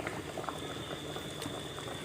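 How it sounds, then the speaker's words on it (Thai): Water boiling in a pot with coconut milk for a catfish curry, a steady bubbling hiss with small pops throughout, close by and fairly loud, no voices. "น้ำก็เดือดแล้ว"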